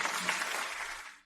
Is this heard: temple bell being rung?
no